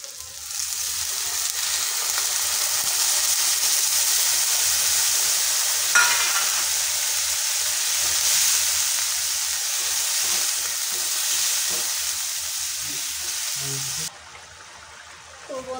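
Butter paneer masala sizzles and bubbles in a pan after water is added, a loud, close, steady hiss with a brief spike near the middle, then it drops off sharply near the end.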